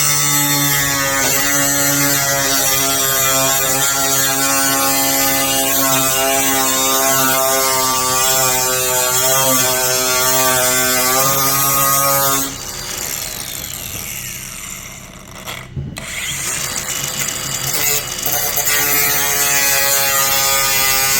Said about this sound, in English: I like using the angle grinder.